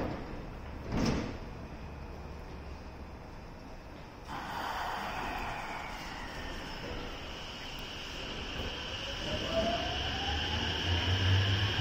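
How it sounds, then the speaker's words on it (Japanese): Doors of a JR Osaka Loop Line train, 225 and 223 series, sliding shut at Teradacho station: a brief thud near the start, then a sustained hiss and rising whine of the train moving off, close and moderately loud. "ドアが閉まります。"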